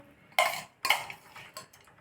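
A few sharp metallic scrapes and clinks of a spoon against a pot while stirring rice payasam, three distinct strokes close up with quiet gaps between them and no voices.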